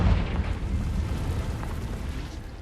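A deep, rumbling blast from the Confringo fire spell in the video game Hogwarts Legacy, booming loudly at the start and then rolling into a low, sustained roar that slowly fades.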